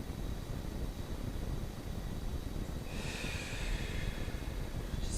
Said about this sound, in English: Take a deep breath in, and then on the out breath